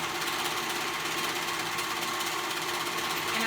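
Sewing machine stitching a seam on a fairy jacket, a steady fast mechanical whir with rapid needle rattle running unbroken and close throughout.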